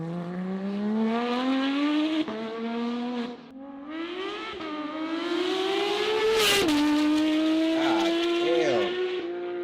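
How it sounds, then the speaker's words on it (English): A powerful car engine with R1 headers and a titanium exhaust drones loudly with rising and falling pitch as it revs, with a sharp burst of noise midway, close by. "I have R1 headers and R1 titanium exhaust, which makes my car way louder"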